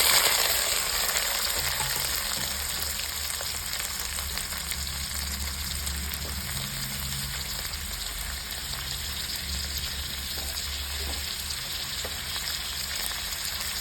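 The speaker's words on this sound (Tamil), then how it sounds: "வெங்காயம் நல்லா வதங்கட்டும்." Onion and garlic fry in oil in a pan, a steady close sizzle with faint stirring scrapes that continues evenly throughout, no voices.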